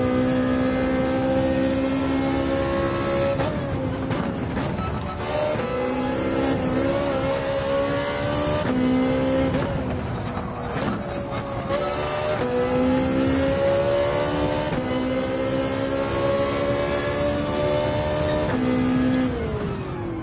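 A race car engine in Gran Turismo 7 screams loud and continuous through a lap, its pitch climbing and then dropping sharply at each gear change, with several quick downshifts and upshifts and no talking.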